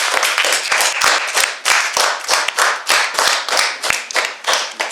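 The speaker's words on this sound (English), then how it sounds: "Give them a round of applause." An audience at a school Alchemist Club showcase applauds a fourth grade student's project, with distinct, sharp claps in an uneven, lively rhythm, close and fairly loud, and no talking.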